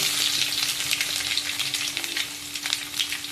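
Garlic fries in oil for a tempering, a close, crackling sizzle with rapid pops and bursts over a steady hiss, heard on its own.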